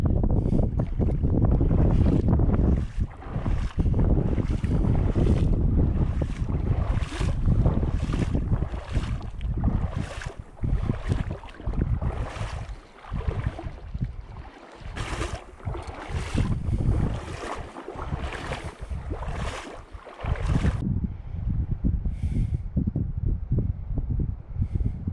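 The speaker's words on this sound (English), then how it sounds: "Fair breeze picking up behind us at the moment." Wind roaring across a microphone outdoors in a remote New Zealand backcountry valley, a fair breeze picking up in loud continuous buffeting gusts that ease slightly near the end.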